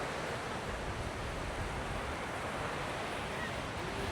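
Ocean waves at Da Nang beach give a steady, broad rushing wash of surf, continuous and fairly soft, with some wind noise mixed in.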